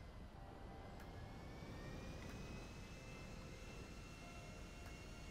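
Airplane flying in GTA 5, a steady broadband engine roar with a faint whine, continuous and fairly distant, with no one talking.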